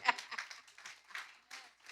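Church congregation clapping in bursts, a loud sharp clap near the start and then scattered rounds of applause that swell and fade, close and fairly loud.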